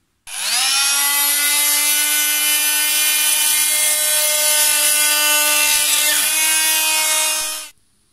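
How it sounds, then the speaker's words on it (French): A Fein power tool cuts flush through a piece, running as a loud, steady high-pitched whine for about seven seconds after a quick spin-up, then stopping abruptly, with no talk over it. "On appuie là-dessus, comme ça va couper plat cet élément."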